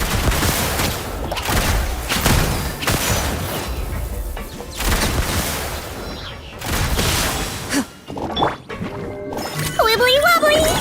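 Gunfire in the action game Genshin Impact comes as repeated loud bursts and booms under a dense mix with a spoken voice, then thins into quieter clattering effects near the end.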